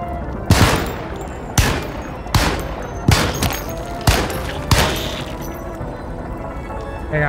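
Pistol shots in the horror video game Alone in the Dark, six sharp single cracks spaced roughly a second apart, each with a short echoing tail, loud and close with no talk.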